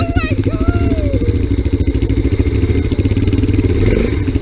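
An ATC three-wheeler rides through snow, its engine chugging in a rapid, steady, close pulse while voices whoop and talk briefly over it.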